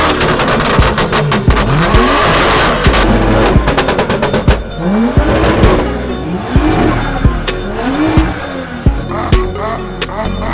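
Loud car engine revving hard in bursts at an outdoor open house car event, with rapid popping crackles like gunfire between the revs and a crowd around.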